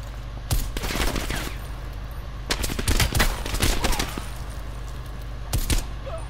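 Gunfire in Call of Duty: Black Ops Cold War, with clusters of sharp game shots and short bursts over a steady low rumble, loud and close, and a last lone burst near the end.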